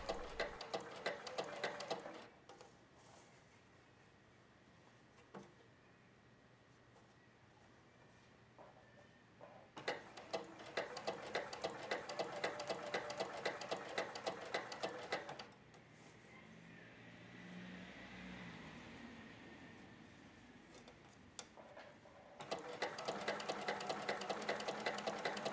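A sewing machine stitches swimwear fabric on a long basting stitch with the tension loosened, running in several rapid, steady bursts of mechanical ticking separated by quieter pauses with faint handling sounds.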